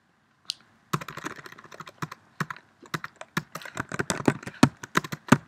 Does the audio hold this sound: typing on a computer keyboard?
yes